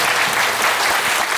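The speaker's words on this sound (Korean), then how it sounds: "여러분 박수 부탁드립니다." A lecture audience breaks into loud, dense applause, a brief burst of many hands clapping together at close range.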